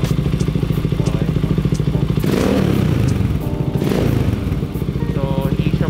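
Motorstar Cafe 400 motorcycle engine running close up with a rapid thumping idle, revved a few times into louder rasping bursts through the exhaust before dropping back, with brief speech over it.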